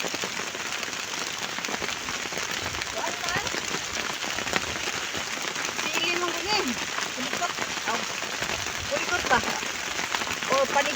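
Steady rain patters across a chili field during harvest in stormy weather, a dense, continuous wash of droplets close by, with faint voices and small rustles of picking underneath.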